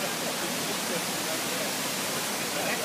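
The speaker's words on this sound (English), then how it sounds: "There's Emma and Daddy at the Big Rocks waterfall" The Big Rocks waterfall, a steady, loud, broadband rush of falling water that fills the whole moment without pause.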